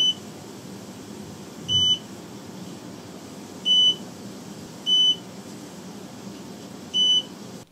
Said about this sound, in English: One other thing I really didn't like about this garden is the beep.